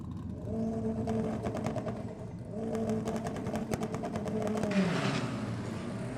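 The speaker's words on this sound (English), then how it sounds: "You can hear the unmistakable whistle of the bonnet exit exhaust" Drag racing CRV with a bonnet exit exhaust at Sydney Dragway, its engine note carrying a tonal whistle that rises and holds over a rapid stuttering buzz, fairly distant with crowd ambience.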